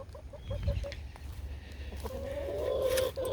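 Hens in a backyard coop and run, seven birds, give soft, rhythmic clucks and a drawn-out murmuring call, fairly quiet against low background rumble.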